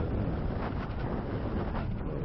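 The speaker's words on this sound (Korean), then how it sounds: "바람이 세게 막 불고" Strong wind buffets the microphone during a paragliding flight in winter, a steady loud broadband roar that holds without a break for the whole stretch, with no voices.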